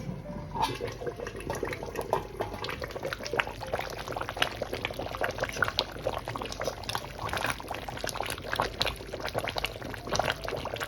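Meat stew (kondrè de viande) boiling vigorously in a pot, a dense close bubbling and popping that churns on without pause at moderate loudness.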